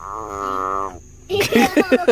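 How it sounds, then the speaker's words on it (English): A frog in the Everglades gives one sustained, buzzy croak lasting about a second, close and fairly loud, followed by a short pause and then laughter. "It's Mr. Frog."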